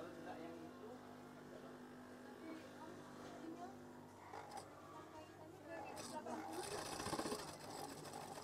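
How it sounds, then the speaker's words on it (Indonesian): A sewing machine stitches through very thick fabric while curtains are made, running steadily and loud and growing harsher near the end, with a voice speaking over it. "Kemudian jahit saja. Bahan ini sangat tebal."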